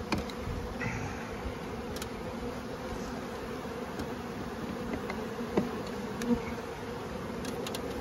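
Honeybees buzz around a trap-out tote set up beside a tree, a steady low drone of many insects close by, with a few faint clicks and knocks over the continuous hum.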